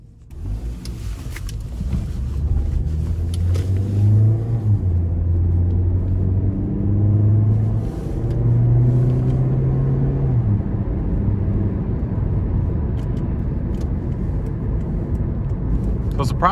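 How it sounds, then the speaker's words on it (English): A 2010 Toyota Corolla LE with about 105,000 miles out on a road test drive, its engine droning and rising in pitch as it accelerates and shifts, under a steady road rumble inside the cabin. "take this 2010 Toyota Corolla LE out on the road for a quick test drive"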